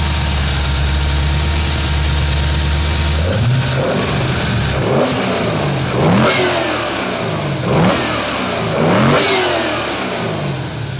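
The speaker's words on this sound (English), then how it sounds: "Go find me a carbureted small block that sounds like that." A 1959 Corvette's carbureted small-block V8 idles, then is blipped several times, each loud rev climbing and falling back in a rhythmic series close by.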